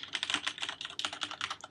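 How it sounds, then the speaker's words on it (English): Rapid typing on a PLU ML-87 keyboard fitted with Cherry MX Red switches: a steady run of close, crisp key clacks in quick, slightly uneven rhythm, heard alone without any voice. "You can hear like me typing on them."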